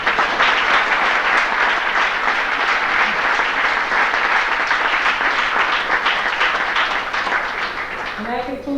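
A banquet hall audience gives sustained, loud applause for senior athletes at a high school sports awards night, steady dense clapping that fades slightly before a voice begins at the end.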